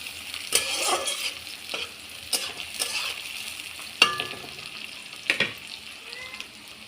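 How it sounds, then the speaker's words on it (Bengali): Onions and green chilies frying in a pan for chow mein, a steady close sizzle with several sharp stirring scrapes and clinks of a utensil against the pan, no talking. "পেঁয়াজ আর কাঁচা লঙ্কা করে লাল করে আমি ভেজে নেব।"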